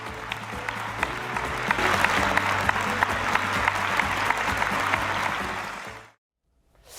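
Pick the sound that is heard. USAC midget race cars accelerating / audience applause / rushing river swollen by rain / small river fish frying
audience applause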